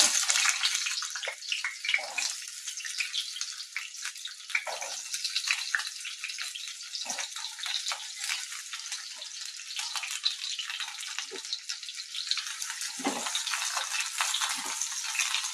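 Pieces of pointed gourd fry in hot oil over medium heat, giving a continuous close crackling sizzle with scattered pops and bursts, steady and fairly loud, alone without speech.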